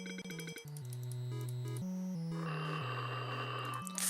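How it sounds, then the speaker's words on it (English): A phone rings in a horror video game, sounding as a steady sequence of electronic tones that step between pitches, clear and continuous with no talk over it. "Silly phone be ringing."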